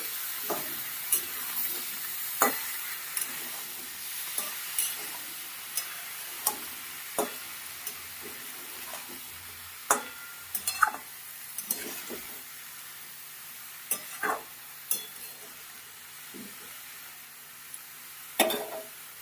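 Winter vegetables with salt and turmeric are stirred in a pan over a quiet, steady sizzle, with a spoon scraping and tapping at irregular intervals at close range.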